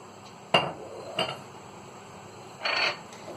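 Metal kadai (wok) set down on a stove for white sauce pasta: two sharp, close clanks followed by a brief scraping shuffle, heard alone against a quiet background.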